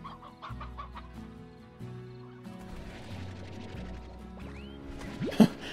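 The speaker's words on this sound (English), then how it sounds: "A bunch of chickens fall out of the sky." Chickens in Slime Rancher cluck and squawk repeatedly at close range, with a steady mechanical hum underneath and a sharper cry near the end.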